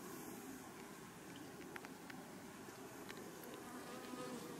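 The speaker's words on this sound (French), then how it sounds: "Elles ventilent de façon à augmenter le taux d'humidité dans la ruche et refroidir en même temps." Honeybees fanning their wings at a hive entrance during a heatwave, cooling the hive and raising its humidity, making a faint, continuous, even buzzing drone without a break.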